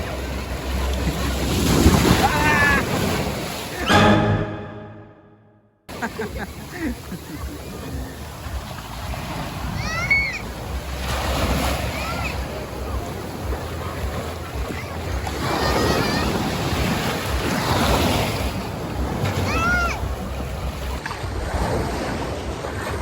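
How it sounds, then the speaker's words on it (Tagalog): Ocean surf at a beach in Lapaz, San Narciso, Zambales, with waves rolling and crashing under steady wind noise on the microphone, a brief dropout early on, and a voice talking over it. "napalo ako, laki ng alon pala yun"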